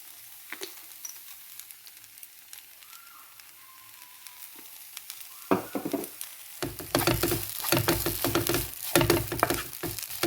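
Okra fries in coconut oil with turmeric. After a few quiet seconds, a loud crackling sizzle bursts up near the midpoint and then continues densely and close, with no talking.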